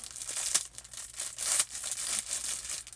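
A gift package is cut open and its plastic wrapping is pulled away, with a few sharp tearing rips and crinkling between them, close and alone.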